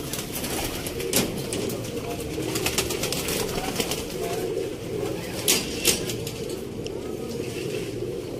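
Golden pigeons of the Mian Nazir bloodline coo in a steady low murmur close by, with occasional sharp bursts of handling or flapping and voices talking over them.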